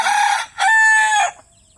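A rooster crows loudly and close in a chicken coop, a single drawn-out call with a short break, as chickens in the pen cluck around it.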